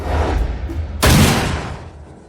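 Target shooting practice yields a loud, close gunshot with a sharp crack and a booming tail that slowly decays, following a dull thudding rumble, with no talk.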